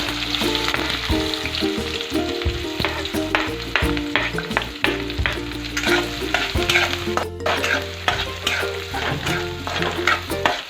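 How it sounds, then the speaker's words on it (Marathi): Onion frying in oil with mustard seeds for poha, a loud close sizzle with constant spatula scraping and clinks against the pan, continuing steadily with no voices. "मोहरी छान तळलं तळतळली की लगेच आपण त्यामध्ये कांदा टाकून घेणार आहोत"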